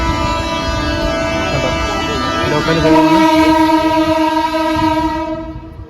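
A suburban local train at Mumbai's Masjid railway station rumbles close by with a long, loud horn blast sounding over the steady rolling noise, fading out at the end.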